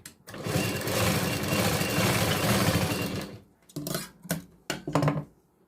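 A sewing machine runs a double line of stitching over the tucks of a katori blouse, one long steady whirring run of about three seconds followed by several short bursts, close and loud.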